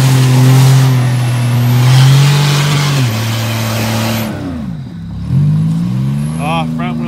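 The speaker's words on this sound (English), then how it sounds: "Oh, front wheel drive problems. Only one tire wants to spin." A Buick LeSabre with front-wheel drive revs hard while stuck in mud with only one front tire spinning, the loud engine rising and falling in pitch through several surges as people talk over it.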